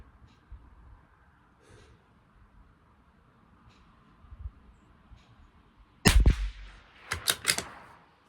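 Tikka T1x or Bergara rimfire rifle firing Lapua ammunition at super long range, a quiet stretch then a sharp close shot followed by a couple of further cracks and clicks in quick succession, no talking.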